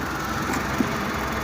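A Toyota Hiace engine idles with a steady low rumble and mild vibration, heard nearby with a small knock partway through, and no voices.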